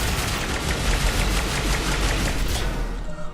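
Dense, continuous gunfire from a Mass Effect 3 firefight, loud and sustained with overlapping shots and rumbling booms throughout, tapering off slightly at the very end.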